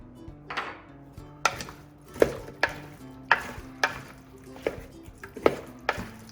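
Wooden spoon stirring chicken thighs with sweet paprika in a pan for paprika chicken with potatoes, giving a steady run of about ten distinct scraping knocks over a faint background hum.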